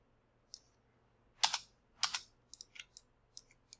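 Mouse and keyboard clicks while modeling in Maya 2022 software, a handful of crisp, quiet clicks at irregular intervals, with a couple of louder double-click bursts, close and alone in a silent room.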